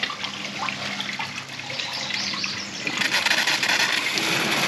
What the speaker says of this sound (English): So now I'm going to turn on the black water flush.